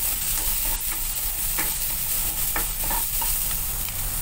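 Onions and garlic sizzle in oil in a pan for ginataang kalabasa, a steady close frying hiss broken by scraping stirs of a utensil against the pan, with no talk.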